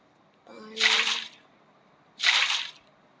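Water in the game Minecraft: two short, soft splashy whooshes about a second and a half apart, each fading quickly against near silence.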